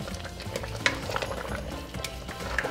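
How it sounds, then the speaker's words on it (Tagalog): Shrimp stirred in bubbling coconut milk in a pan, with a soft sizzle and repeated spoon scrapes up close, no speech. "Haluin lang natin."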